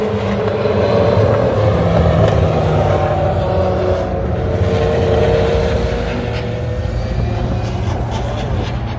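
Historic sports cars racing at Road Atlanta, a dense, continuous engine roar from several cars at once, steady and fairly loud with shifting tones as they pass, with no voices.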